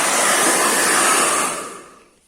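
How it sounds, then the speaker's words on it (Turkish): A Serenity SR-6000 professional hair dryer blows hard with a loud, steady, close-up rushing whoosh that holds for over a second and then winds down and fades out, with no voices. "gerçekten bir fön makinesi arkadaşlar"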